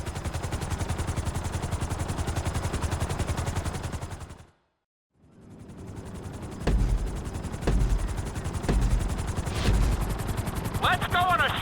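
A helicopter at flight school in Grand Theft Auto V gives a loud, steady, pulsing rotor roar. It cuts out briefly midway, then returns with several heavy thumps.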